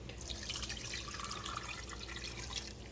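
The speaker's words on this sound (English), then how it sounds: "So I just put about 2 cups of water, maybe 3 or so cups of water in there" Cold water is poured from a tap into a cooking pot with smoked turkey necks for mustard greens, a steady, close rushing splash that runs continuously without a break.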